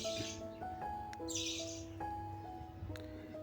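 A young blue budgerigar that has lost its beak chirps in short, clear whistled notes, several separate calls spaced across a quiet indoor room.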